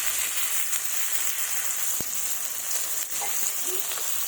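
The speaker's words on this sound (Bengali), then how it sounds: "পেঁয়াজ কুচি, কালো জিরা ফোড়ন দিলাম" Chopped onion and black cumin seeds frying in hot oil in a home kitchen, giving a steady, even sizzle with a couple of faint clicks from the pan, no voices.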